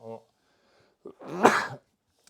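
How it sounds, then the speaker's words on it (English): A brief voiced sound, then a sharp intake of breath and one loud, close sneeze, followed by silence. "I could feel that sneeze coming."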